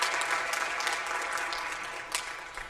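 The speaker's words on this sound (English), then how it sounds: "Let's give a round of applause" Audience applause at a combined school board meeting, steady clapping from a seated crowd throughout, fairly close and even, with a brief louder burst near the end.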